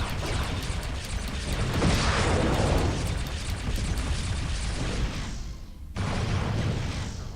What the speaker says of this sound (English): So, full load of photon torpedoes.